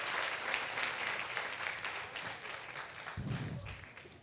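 Church congregation applauding together, a steady dense patter of many hands clapping at moderate distance for several seconds, with a brief low thump near the end.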